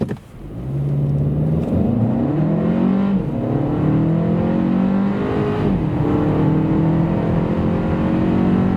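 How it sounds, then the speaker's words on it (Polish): A 2026 Kia K4 GT-Line hatchback with a 1.6 T-GDI 180 hp four-cylinder accelerates hard from a standstill, its engine note climbing through several gear changes in a steady rising drone heard from inside. "pod kątem dynamiki tak samochód przyspiesza od 0 do setki"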